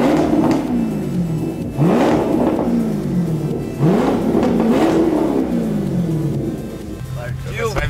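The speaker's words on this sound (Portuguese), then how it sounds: "o ronco desse carro me deixa pirado" A Corvette engine roars loud and close, revving up in repeated rising surges every couple of seconds with a deep growl between pulls, while people talk over it.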